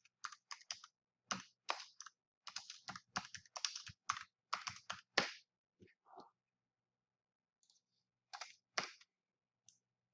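Bursts of close keyboard typing while entering a button label on a course website, irregular clusters of sharp clicks with short pauses, ending in a few scattered keystrokes.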